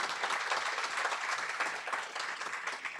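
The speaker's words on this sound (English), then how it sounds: "Yeah, you can clap." Audience applause at a lunchtime awards luncheon, a steady, dense wash of many hands clapping at moderate distance, sustained without pause and with no voices over it.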